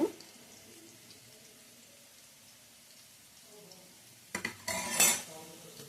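A plate and spoons handled in a home kitchen, with quiet low voice sounds at first, then a sharp burst of clinking ceramic and metal near the end.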